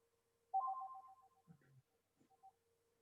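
Brand new mobile phone ringing with a melodic electronic ringtone, a repeating pattern of short tones over a steady hum, moderately loud and close, with brief clicks in between.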